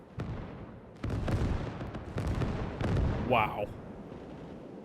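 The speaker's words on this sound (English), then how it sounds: "They're already shelling." Mortar artillery shelling in the Gates of Hell war game, several heavy booms and rumbling blasts rolling in succession, with a voice exclaiming briefly and a whooshing effect late on.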